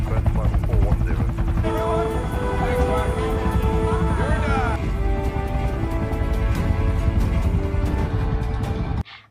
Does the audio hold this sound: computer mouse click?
no